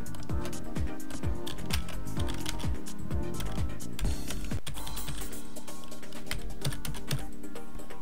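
Steady, rapid typing on a computer keyboard at close range, with dense clicking keystrokes running continuously for the whole stretch and no voices.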